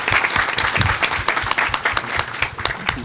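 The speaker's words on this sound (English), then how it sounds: "So will you all join me in giving a round of applause to Congresswoman Jackson Lee?" An audience applauds Congresswoman Jackson Lee at a Black maternal health summit, loud, dense clapping from a large crowd filling the room without a break.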